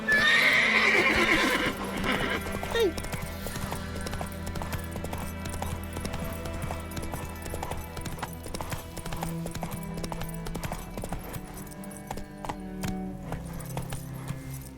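A horse in The Witcher 3 video game whinnies at the start, then its hooves clip-clop at a steady walking rhythm throughout, moderately close amid faint game ambience.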